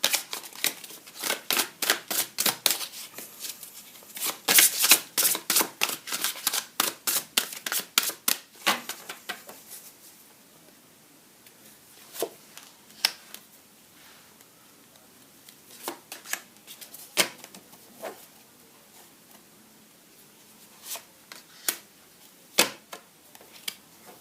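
Tarot cards being shuffled and drawn on a table, a dense run of crisp close card snaps and riffles at first, then thinning to sparse single flicks and slaps with quiet gaps.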